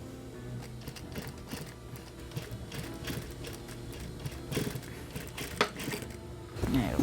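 A sewing machine top-stitches a trouser waistband in quick mechanical bursts, its rapid needle clatter starting and stopping in short runs with small clicks and handling between, close and clear.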